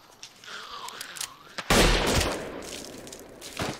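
A gunshot blasts from The Walking Dead on a TV, one sharp loud report after a quieter stretch, with a lingering tail of noise afterward.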